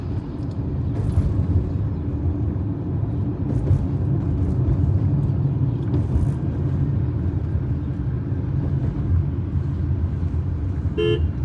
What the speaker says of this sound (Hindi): बहुत गंदा ट्रैफिक है, बट मतलब ये जो आप देख रहे हैं पूरा इसी तरीके से जैम है पिछले आधे घंटे से